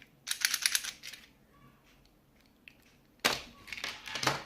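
Cardboard packaging of a Xiaomi Mi 2C 20,000 mAh second-generation power bank is opened in two bursts of close, crisp rustling and scraping, separated by a quiet pause.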